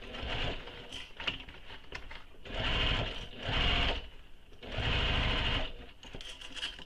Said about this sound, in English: And just stitch all the way around.